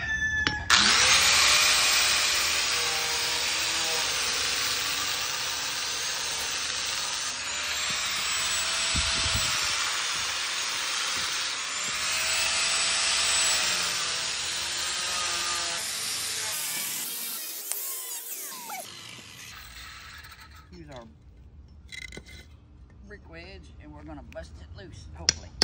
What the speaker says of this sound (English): I'm gonna use an angle grinder.